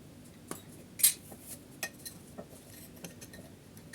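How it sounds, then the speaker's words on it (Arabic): Batter for jam-filled sponge pancakes being stirred in a bowl, with a spoon or whisk tapping and clinking against the sides in a loose, repeated rhythm, close and fairly soft. "كنخلط الخليط مزيان بهذه الطريقه"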